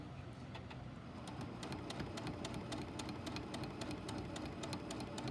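A sewing machine stitches fabric for a tree skirt in a steady, quiet whir with a fast, even run of light ticks, heard fairly faint and alone with no voices.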